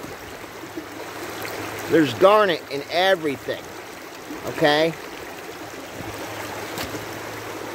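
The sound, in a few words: creek water flowing over rocks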